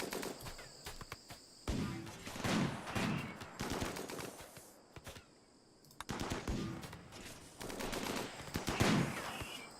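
Gunfire from the RimWorld video game: bursts of rapid, clattering shots repeating in clusters across the stretch, with brief lulls between volleys and no voices.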